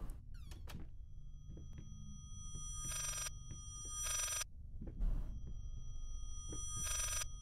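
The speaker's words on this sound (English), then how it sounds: "What is that noise? Is that a phone?" An old telephone rings inside a dark house in the horror game Layers of Fear, sounding as three separate bright, shrill bursts of ringing against a quiet, low ambient rumble with faint creaks and thuds.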